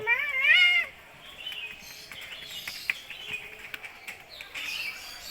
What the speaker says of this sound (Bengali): ওখানে একটা বিড়াল আছে